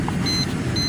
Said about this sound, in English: My AC is on, so you hear a beep.